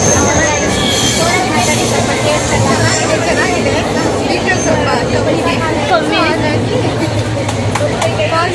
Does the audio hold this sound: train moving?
yes